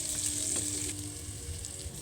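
Chopped onions and cumin fry in hot oil in a pan, an even close sizzle with a fine crackle on top that eases a little partway through. No voices.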